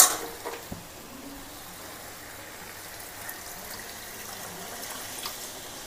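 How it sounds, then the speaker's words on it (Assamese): Water is poured into a pot of rice for chicken biryani, a faint, steady trickling pour that stays quiet and even for several seconds after a couple of soft knocks at the start. "ইয়াতে মই এতিয়া পানী এড কৰিম"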